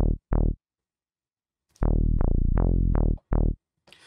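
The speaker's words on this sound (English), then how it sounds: "So I came through with this purity bass line right here." Short, punchy synth bass notes hit in a bouncy pattern, two quick notes, a pause, then a run of five, each decaying quickly.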